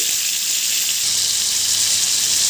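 Chopped tomatoes fry in hot oil, giving a steady, bright sizzle with a constant crackling hiss that stays loud and unbroken throughout, close by, with no talking.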